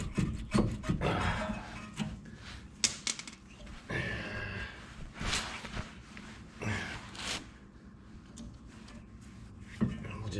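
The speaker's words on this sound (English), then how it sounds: "Caliper should come off freely." Rear brake caliper with built-in park brake being pulled off a 2012 Mazda 3: close metallic clunks, scrapes and rubbing knocks in irregular bursts, with a few sharper taps and a steady low workshop hum underneath.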